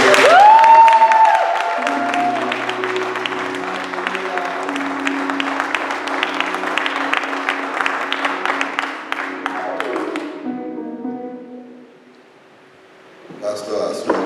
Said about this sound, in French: I want us to clap for Jesus.